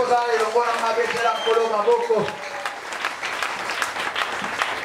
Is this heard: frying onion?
no